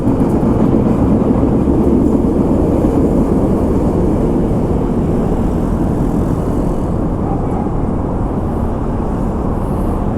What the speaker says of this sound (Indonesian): kereta komuter